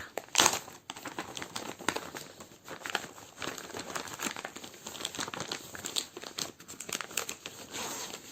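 Plastic packaging around a 30 by 44 cm cross-stitch kit being unwrapped, continuous close crinkling and crumpling with a sharp tearing burst near the start.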